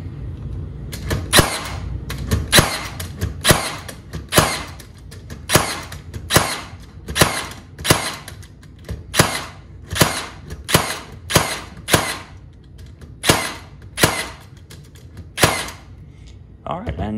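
A Metabo HPT cordless brad nailer fires in regular fire mode, giving about twenty sharp, loud snapping shots at a steady, evenly spaced rhythm close to the listener, with no talk between them.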